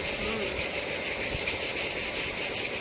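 Sandpaper rubbed by hand over a heavy machine before painting, a steady rhythmic rasping scrape repeating in even strokes, close and continuous.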